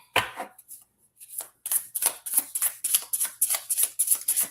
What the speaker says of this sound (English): I love how these cards shuffle